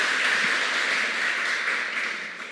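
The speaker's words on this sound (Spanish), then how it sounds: "Vamos a darle un aplauso al Señor." A church congregation applauds at a worship service, a steady wash of many hands clapping together that holds evenly throughout before easing slightly at the end, with no talking over it.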